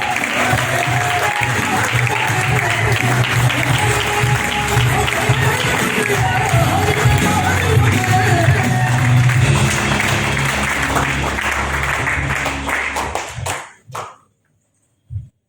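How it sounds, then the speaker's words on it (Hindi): Loud, sustained applause from a large audience at a hotel business event, steady clapping with crowd noise for about thirteen seconds before fading abruptly to silence. "एक बार जोरदार मिले, जोरदार तालियां"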